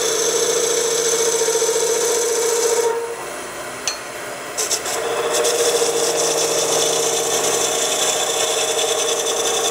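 Skew chisel cutting spinning wood on a lathe, a loud steady rasping hiss with a tonal machine hum, briefly easing off mid-cut with a couple of light taps before the cut resumes.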